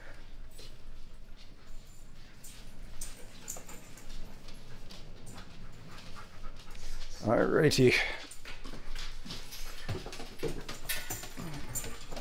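A dog whimpers and pants close by, soft uneven whines with a louder burst midway, while a person speaks briefly over it.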